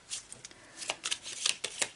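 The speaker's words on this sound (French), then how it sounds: "Je vais tirer ici deux petites cartes" Tarot cards are shuffled and drawn by hand, making quick papery riffles and soft slaps that come in uneven bursts. The sound is close and fairly quiet, with no talk over it.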